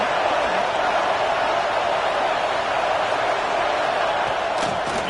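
Stadium crowd at a football game roaring steadily during a first-and-goal play, a broad, loud, sustained wash of voices with a few sharper cheers near the end.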